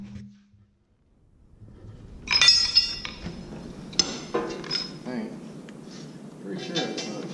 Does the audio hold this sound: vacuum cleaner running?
no